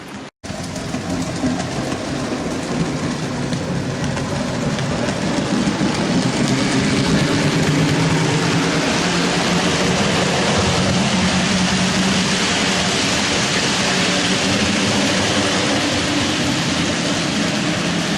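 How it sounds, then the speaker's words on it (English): Steady rumbling rush of a small HO-scale model freight train running along its track, continuous and fairly loud from start to finish with no talking. "So we'll run a modern day freight train with the classic late steam era motive power."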